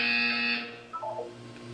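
A buzzer in the video game Portal 2 sounds as one steady electronic tone for about half a second, then cuts off and gives way to a short descending synthetic chime, clear and alone.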